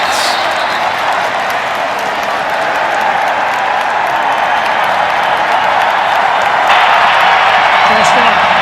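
Roaring stadium crowd of about 30,000 Lobo college football fans cheering, a dense continuous wash of noise that swells slightly near the end, with no distinct talk.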